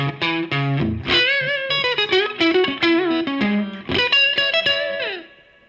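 A PRS electric guitar played with the gain turned up for a classic rock tone: distorted single notes and bends with chorus and reverb, loud and close, ringing out at the end with no talk.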